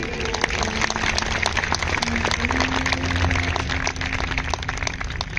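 Steady, dense applause from a large audience at a public speech, a continuous wash of clapping heard alone at moderate distance, without breaks across the whole stretch.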